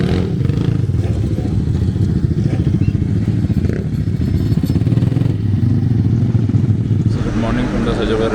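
Motorcycle ridden in the Sjoba Rally, a loud continuous engine drone with wind buffeting and rattling, close to the rider, with a voice talking over it.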